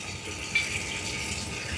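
Water runs steadily from a sink tap in a cell culture lab, a faint continuous hiss with no breaks.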